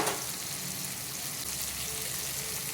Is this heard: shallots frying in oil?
yes